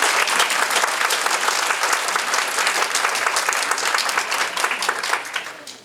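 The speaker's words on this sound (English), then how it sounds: "Let's give them a quick round of applause" An audience at a business New Year gathering gives a brisk round of dense clapping that holds steady for several seconds and then fades off.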